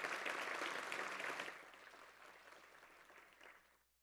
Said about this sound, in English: Let's give them a big hand. We're going to be applauding all night.